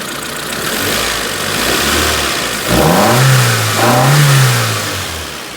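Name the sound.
car engine running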